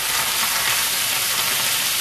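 Squid fries in hot oil in a wok or pan, giving a loud, dense, continuous sizzle and crackle with no talk.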